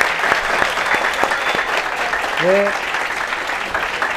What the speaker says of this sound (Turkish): Önce büyük bir alkış rica ediyorum efendim.